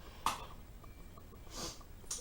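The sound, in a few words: person sniffing from allergies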